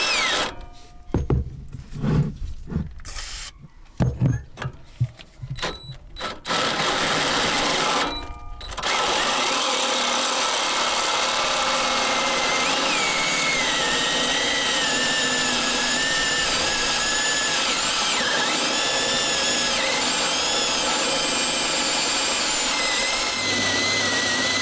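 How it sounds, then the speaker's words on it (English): A power drill with an 11/16 bit starts and stops in short bursts, then runs continuously with a loud, steady whine as it bores through metal. "So I got a big old 11/16. I'm gonna drill this out."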